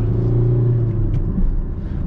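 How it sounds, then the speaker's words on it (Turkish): A Kia Rio engine roars close by on a mountain road, a deep steady rumble that rises and holds as it revs high. "Bu araba çok hızlı devir çeviriyor arkadaşlar."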